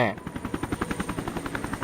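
Helicopter in the Resident Evil Revelations video game, a steady rhythmic rotor chop pulsing throughout under busy game effects, with a short burst of talk at the start.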